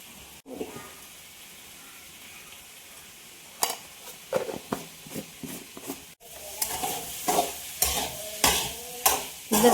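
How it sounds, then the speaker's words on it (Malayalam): Breadfruit curry with onion and chilli masala being stirred in a hot pan, a quiet start giving way to rhythmic scraping strokes over a steady sizzle. "ഉള്ളിയുടെയും മുളക് പൊടിയൊക്കെ ഇത് മസാല അതിൽ കടച്ചക്കയിൽ പിടിക്കാൻ വേണ്ടി നന്നായി ഇളക്കുക"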